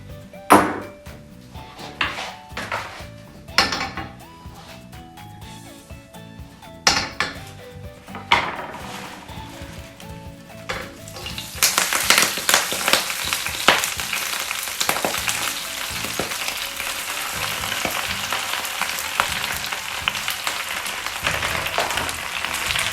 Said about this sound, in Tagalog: susunod natin gagawin ay stir fry natin itong ang ating spinach dito sa olive oil